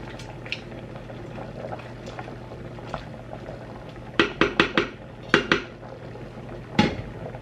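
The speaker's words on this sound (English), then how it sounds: "I'm just gonna smash all the apples and oranges against the side of the pan as much as I can" Apples and oranges being smashed against the side of a pan, heard as a few sharp clustered knocks and clatters of fruit on the metal rim over a low simmering background, with no talking.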